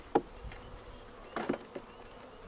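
Honey bees from a swarm buzz in short, faint bursts close by, a few brief swells rising over a low, quiet background with no talking.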